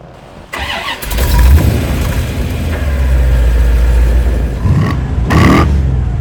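A Corvette C4 engine cranks briefly, catches and roars to life, then settles into a steady, loud idle with a couple of throttle blips.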